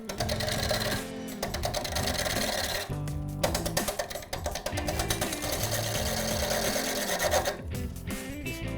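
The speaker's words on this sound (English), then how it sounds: "So now we're going to rough cut it with a big gouge." Big gouge roughing a spinning wood blank on a lathe, a loud continuous rattling, chattering cut with brief pauses where the tool lifts off the wood.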